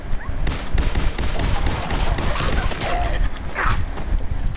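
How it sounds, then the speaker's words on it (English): Laser rifle fire in the video game Fallout 4 comes as a rapid, dense volley of loud shots, mixed with game noise and some talking. "Let's go for my laser rifle"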